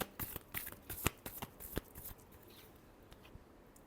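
Tarot cards are shuffled close by in a quick, crisp flurry of riffling slaps and snaps, which then fades into a soft, quiet rustle.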